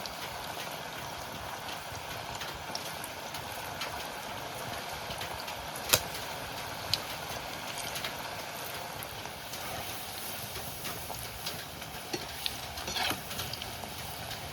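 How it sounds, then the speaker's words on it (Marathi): Small balls of cabbage bhaji batter fry in hot oil on a medium gas flame, giving a steady, even sizzle with faint crackles and no one speaking. "भजी तळून घ्यायची"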